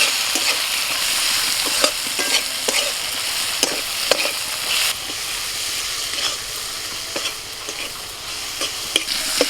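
Ground cumin, chili and turmeric powder with salt sauté in a pan with a splash of water, giving a steady close sizzle and hiss broken by frequent scraping clicks of a stirring spoon, with no talk.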